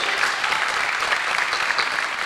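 Audience applause at a 1989 Glendale Adventist Academy talent festival, steady dense clapping from a crowd filling the room throughout, without pause.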